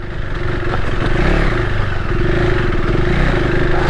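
A KTM 390 Adventure R single-cylinder motorcycle runs offroad at high revs, its engine a loud, steady buzzing drone close to the rider, with gravel clatter and wind rumble throughout.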